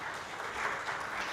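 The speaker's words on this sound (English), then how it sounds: "The claps were probably because I was fast." Audience applause following a talk at an ECG medical symposium, a dense, steady patter of many hands clapping throughout, moderately loud and without speech.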